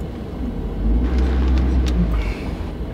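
An RV creeps forward up onto plastic leveling blocks, a steady low engine rumble that swells in the middle and eases off again, close and alone without talk.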